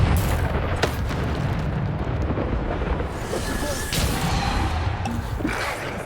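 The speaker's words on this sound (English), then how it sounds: "You have to lock onto the target and use a damage spell. Bombarda." Bombarda damage spell blasts in Hogwarts Legacy, a continuous loud booming rumble of explosions and crashing impacts filling the clip.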